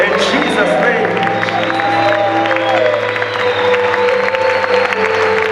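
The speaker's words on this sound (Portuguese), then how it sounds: "Vamos bater uma salva de palmas aqui nesse lugar." A church congregation breaks into loud, sustained applause and cheering, dense clapping continuing throughout with a few voices mixed in.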